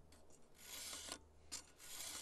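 A round file worked along a chainsaw chain with a file guide gives steady rasping strokes, close and fairly soft, with about three scraping passes in quick rhythm and no speech.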